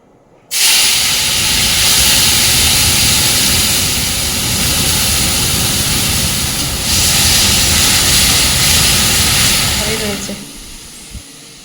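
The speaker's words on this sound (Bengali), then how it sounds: "তেল গরম হয়ে গেছে তেলের মধ্যে মাছগুলো ছেড়ে দেবো" A loud, sudden sizzle bursts up as fish hits hot oil, then a steady intense frying hiss continues before fading.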